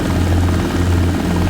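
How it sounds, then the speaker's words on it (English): Steady, loud helicopter rotor thump and engine whine from a simulated helicopter in the X-Plane 12 flight simulator game, heard close and continuous with no speech. "Oh yeah, that's a helicopter"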